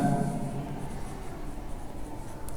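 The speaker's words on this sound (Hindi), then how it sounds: "यही बात हम यहां पे ऊपर लिखेंगे" Chalk or marker writing on a classroom board during a chemistry lesson, a faint continuous scratchy scraping with a brief voice at the very start.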